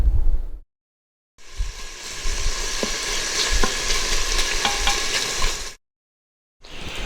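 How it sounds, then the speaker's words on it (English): Bacon sizzles and crackles steadily in an Instant Pot, a loud continuous fry broken by brief silent cuts, with occasional stirring knocks. "So I'm throwing this bacon in here, and we will let that get brown and really toast up"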